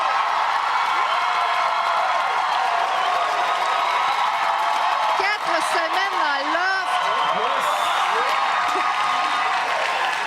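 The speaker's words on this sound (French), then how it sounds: "Déjà, ça mérite une bonne main d'applaudissements." Studio audience applauding and cheering for the contestants on the Quebec reality show Loft Story, a steady wash of clapping with whoops, carrying on under a host's voice throughout.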